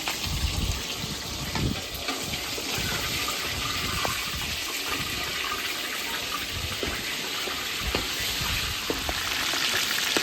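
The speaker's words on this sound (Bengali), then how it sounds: "তাহলে আমি মাংসটা ভেজে নামাই" Chicken leg pieces frying in a pan for a spicy chicken roast make a continuous dense sizzle with occasional crackles and pops, close and fairly loud, with no speech.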